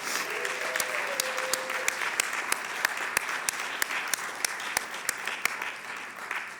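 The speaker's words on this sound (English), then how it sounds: "give yourselves a big round of applause" Audience applause at a spring college convocation, a continuous roomful of clapping with a few sharp, prominent claps standing out at a steady pace, and a brief voice sound early on.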